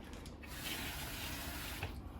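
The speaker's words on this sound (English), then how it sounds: "Add some water to it." Water runs and splashes steadily into drywall joint compound being mixed for patching, a soft continuous pouring sound with a slight bubbling flutter, fairly quiet, with no voices.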